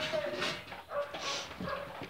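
Dogs at a breeding kennel bark and yip repeatedly in short, close bursts, with some whimpering mixed into the busy indoor racket.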